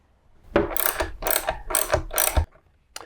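Screws driven back into the dash of a Husqvarna Norden 901 motorcycle, with three or four loud, close ratcheting bursts in steady succession, then a brief click.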